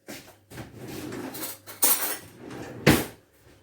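Metal cutlery rattles and clinks as a tablespoon is fetched from a kitchen drawer while making pancakes, a few scattered clatters followed by a sharp bright clink near the end.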